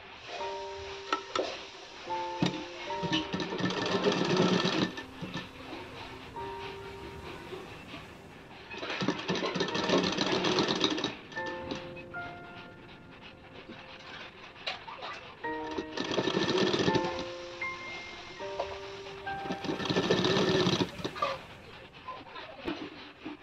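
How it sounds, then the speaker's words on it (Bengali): Sewing machine stitching a baby skirt sewn from old denim jeans, running in four long bursts of steady mechanical whirring separated by short pauses, with faint background noise between runs. "এই দেখুন এইভাবে আমি সমস্তটা সেলাই দেবো।"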